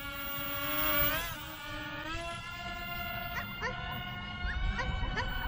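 A small electric motor on a TY8 B-2 Stealth Bomber EPP RC airplane hums with a steady buzzing whine that rises in pitch as the throttle increases, close and fairly quiet, with a slight dip partway through.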